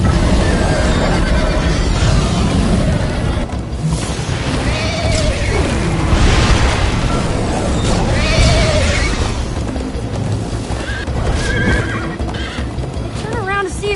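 A horse whinnies loudly over steady clip-clopping hooves in the video game Minecraft: Story Mode, with crashing noises and talking voices mixed throughout.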